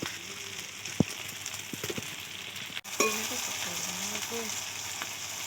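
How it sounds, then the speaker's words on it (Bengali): Chicken pieces sizzle steadily while being stir-fried (kosha) in a pan for a village-style curry, with a sharp clatter near one second and a scrape around three seconds; no one speaks. "মাংসগুলো আমরা খুব কষিয়ে কষিয়ে রান্না করব।"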